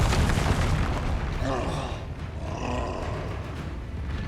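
Confringo blast spell cast in Hogwarts Legacy: a dense roaring boom with crackling energy, fading into a rumbling, sustained whoosh, with no talk over it.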